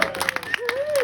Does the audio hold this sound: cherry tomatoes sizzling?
no